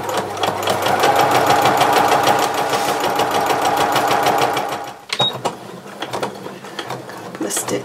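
A sewing machine stitches a Christmas napkin in a rapid steady mechanical rattle for about five seconds, then stops, followed by quieter handling clicks and rustles.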